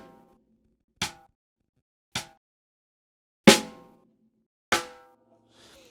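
A drum struck with sticks held freehand and loose, without finger tension, gives four separate single hits with short decays and uneven gaps between them, close and clear with no talking.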